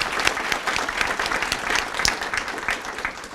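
Dense, steady applause from a seminar audience at a Linked Learning event, loud and continuous throughout with no talk over it.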